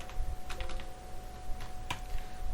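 Keystrokes on a computer keyboard type a search word, a short run of light clicks spread across a couple of seconds against a steady low hum, fairly close and quiet, with no talking.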